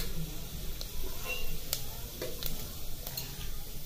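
Hot oil sizzling steadily with scattered sharp pops and crackles of mustard seeds spattering in a pan.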